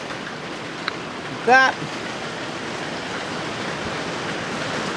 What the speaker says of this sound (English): It's raining outside, which is awesome.